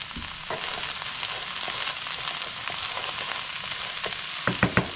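Cabbage frying in a pan gives a steady close sizzle and crackle, with a few sharp clunks of stirring near the end and no speech.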